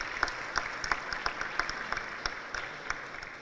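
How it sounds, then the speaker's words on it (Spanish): Applause at a Latin American Parliament assembly honors the parliamentary TV teams, with steady, moderate clapping from a seated audience that holds even and fairly distant before tapering off. "un fuerte aplauso para todos ellos"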